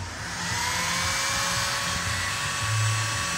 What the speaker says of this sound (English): Set the heat gun on the third, which is the hottest, pretty much those, it works on high.